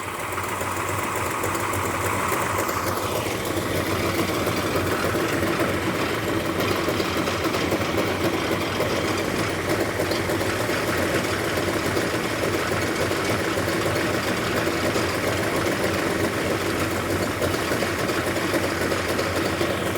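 A racecar's newly fitted engine idles at about 800 RPM, a loud, steady, even mechanical rumble with a slight knock that runs unbroken throughout, with no talk over it.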